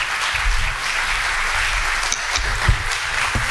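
Sustained audience applause welcoming a pastor to the pulpit at a church service, a steady dense wash of many clapping hands with no speech over it.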